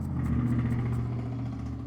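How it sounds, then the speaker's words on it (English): A loud pickup truck drives past, its engine giving a steady, heavy low rumble that stays strong and close for the whole moment, with no voices over it. "Loud ass pickup truck."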